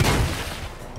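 Fortnite gunfire is a dense, loud burst of shots that fades over about a second, close and booming, with no talk.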